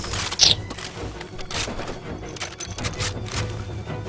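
Gunfire in Far Cry 2 sounds as scattered distant shots and a louder close burst early on, then several muffled reports spread across a few seconds of game noise.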